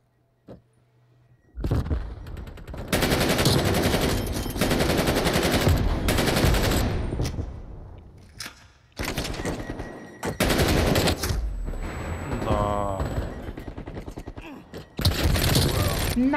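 Sustained automatic gunfire from a Call of Duty: Black Ops Cold War multiplayer match, loud, dense bursts lasting several seconds and separated by short pauses, with a final burst at the end and game voices faintly underneath.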